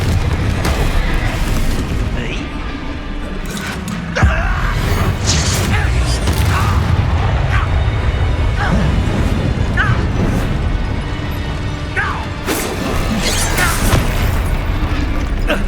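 Confringo explosion spell blasts in Hogwarts Legacy, a video game, heard as repeated booms, bursts and mechanical clatter in a loud ongoing fight, with voices shouting over the action.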